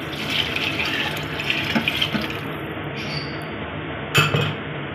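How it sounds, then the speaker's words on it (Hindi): About two glasses of water poured into a cooking pot of chickpeas for a Lahori kofta chana curry, a steady splashing gush that runs for several seconds, close up, with a brief clink of glass near the end. "और साथ ही हम इसके अंदर ऐड कर देंगे तकरीबन 2 गिलास पानी।"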